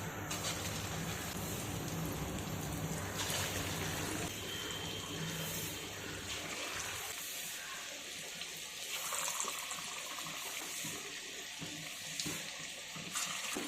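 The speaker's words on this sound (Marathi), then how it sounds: "तेल सुद्धा छान तापलेलं आहे. वडे याच्यामध्ये टाकून घेऊयात." Urad dal vadas dropped into hot oil in a home kitchen sizzle and fry with a steady, hissing crackle throughout, close and fairly loud, with no talk.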